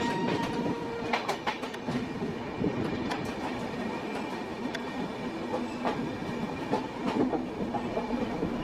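An Indian Railways Kanchankanya Express hauled by a WDG4 diesel locomotive rumbles steadily as it clears a loop onto the main line near Madarihat, with continuous wheel clatter, rail noise and scattered clicks and squeals, close and fairly loud throughout.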